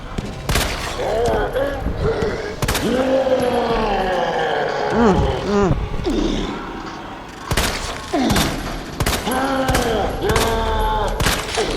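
Gunfire in Resident Evil 2 on PS5 cracks out in repeated sharp bursts and thuds across the clip, under excited talk from a player.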